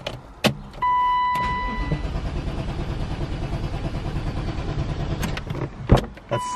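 A BMW E34 M5 with a failing crank sensor turns over, then catches and settles into a steady, close idle that runs for several seconds, with a couple of sharp clunks near the start and end.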